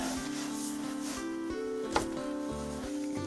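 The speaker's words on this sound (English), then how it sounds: "A little bit more sanding." Sandpaper rubs against a wood-turned top hat spinning on a lathe, a steady close scratchy whir with a soft tonal hum underneath and one small knock partway through.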